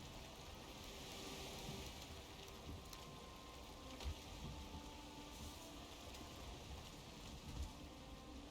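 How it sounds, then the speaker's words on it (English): In the video game Valheim, steady, soft rain patters continuously with a faint hiss, a few slightly louder drops landing now and then. "Of course it's gonna rain."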